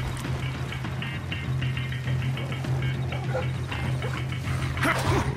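Dogs in the stealth video game Splinter Cell Blacklist bark and yip repeatedly in quick bursts over a steady low game hum, fairly close and clear, with no voices.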